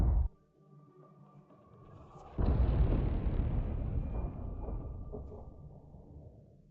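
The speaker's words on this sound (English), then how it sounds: "Powerful detonation. The tank's turret goes into the sky." A missile strikes a Russian tank in combat and sets off a powerful detonation: a sharp burst, a short low rumble, then a loud heavy blast that rolls on and slowly fades, heard at a distance with no voices.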